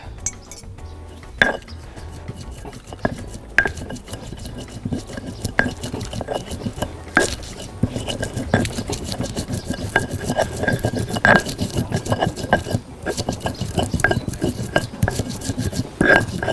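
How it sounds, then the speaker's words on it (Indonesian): Chillies being ground in a mortar for sambal pecak, repeated knocking and scraping clinks at an irregular steady pace, close and fairly clear with no talk. "Ini cabai kita haluskan dulu."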